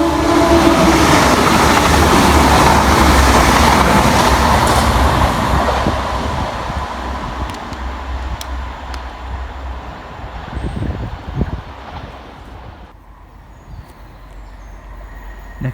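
A TransPennine Express Class 185 diesel unit running from Redcar Central to Manchester Victoria passes at speed, a loud close roar with wheel clatter that gradually fades into the distance.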